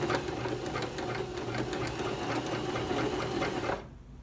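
A sewing machine feeds fabric along a 5/8 inch seam line with a steady, close, rhythmic whir that runs continuously and then stops abruptly near the end.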